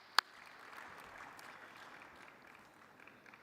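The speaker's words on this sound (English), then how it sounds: "Can I ask that we all give Noor a big round of applause" Faint, distant clapping from an audience at a parliamentary assembly session, a steady low patter lasting a few seconds after a single sharp click.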